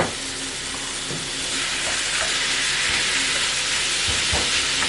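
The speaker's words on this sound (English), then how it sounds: "Now we're going to add in 1 pound of ground beef." Ground beef sizzles loudly in a hot pan, a dense, steady hiss that fills the whole stretch close up, with a few faint stirring knocks and no talk.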